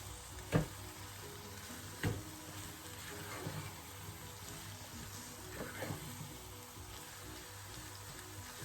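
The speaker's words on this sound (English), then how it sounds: "So I'm going to just leave that to cook down and see." Pepper sauce made from dried peppers simmers down in a pan, giving a quiet, steady sizzle and bubbling with a few soft stirring clinks, alone without talk.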